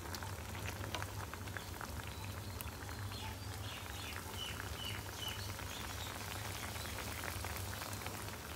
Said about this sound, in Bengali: ভাজা মাছ জলে ঝোলের জন্য ছাড়লাম